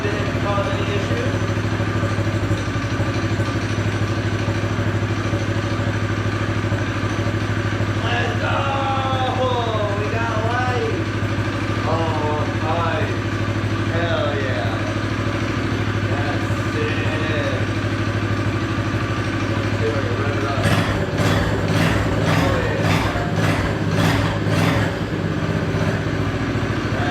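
An off-road mini quad's small engine runs steadily at idle with a fluttering, uneven chug, and a few sharp rattling bursts come near the end while a person talks over it.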